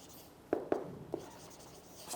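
Chalk or marker on a board during a lecture gives a few short, quiet scratching strokes with small pauses between them, in an otherwise quiet room.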